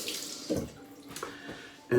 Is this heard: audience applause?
no